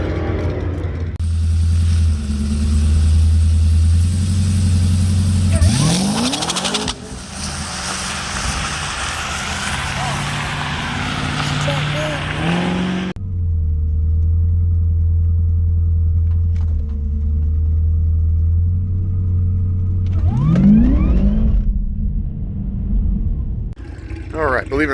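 A drag race car makes a late-day test-and-tune pass at Rockingham Dragway, its loud engine rumbling and revving hard for several seconds, dropping off, then droning on steadily with further revs near the end.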